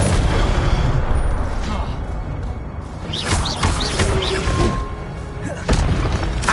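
Spell-combat sounds from Hogwarts Legacy, with fiery Incendio bursts and booming impacts mixed into dense, continuous game noise and whooshes that swell and fall across the clip.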